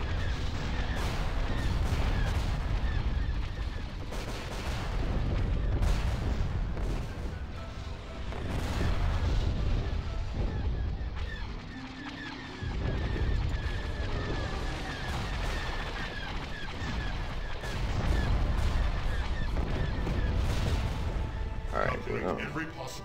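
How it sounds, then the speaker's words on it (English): Missile launches and gunfire in a space battle in the strategy game Star Wars: Empire at War fill a dense, continuous roar of blasts and booms, with louder surges throughout and voices faintly under the din. "All right, missiles away."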